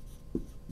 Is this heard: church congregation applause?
no